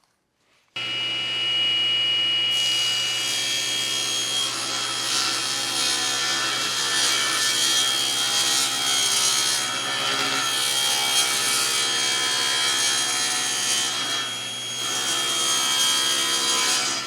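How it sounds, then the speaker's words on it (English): A saw cuts through a 3/4 inch MDF base board, running as one loud, steady, continuous sawing roar for the whole stretch after a brief quiet start. Its tone shifts slightly partway through, and there is no talking. "So now I'm going to cut my base out of a 3/4 inch MDF"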